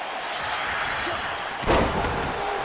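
A wrestler's running elbow drop lands on the mat with a single heavy, close thud that cuts through steady arena crowd noise, followed by a smaller impact.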